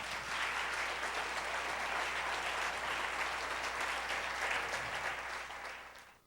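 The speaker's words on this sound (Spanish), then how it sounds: "Un aplauso al Señor esta noche." A church congregation applauds steadily and loudly for about six seconds, a dense even clapping that fades out at the end.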